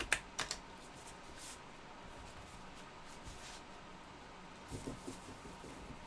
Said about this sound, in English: You're gonna be better at shuffling cards than a casino table dealer.